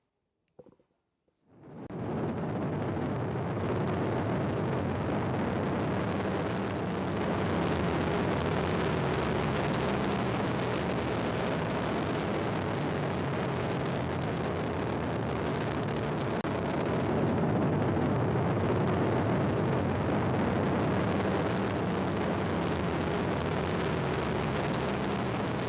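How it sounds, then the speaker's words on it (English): Replay of a daytime Ariane 5 rocket launch, flight VA208 carrying INTELSAT 20 and HYLAS 2: a sudden onset swells into a sustained, dense, thundering roar that stays loud and steady without talk. "Before that, we have a first launch replay."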